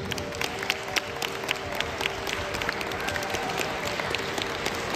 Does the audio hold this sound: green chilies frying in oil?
no